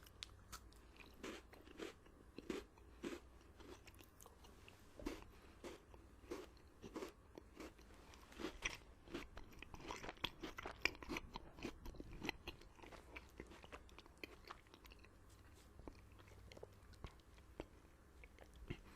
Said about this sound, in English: The crunch is very soft on the inside of Twix.